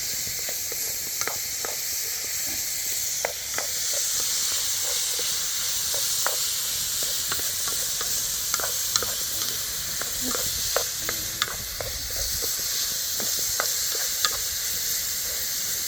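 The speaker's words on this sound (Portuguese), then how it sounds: "Aqui agora, ó, a gente vai jogar o pimentão." Bell pepper sizzles and hisses steadily in a hot pan, punctuated by frequent scraping clicks of stirring, close and without talk.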